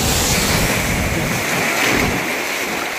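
Ocean surf at Calangute beach in Goa roars loud and steady, mixed with heavy wind rumbling on the microphone throughout.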